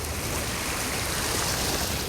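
Waves wash in at a shoreline beside moored dragon boats during high tide and monsoon weather, a continuous broadband rush of surf and wind with no talk over it.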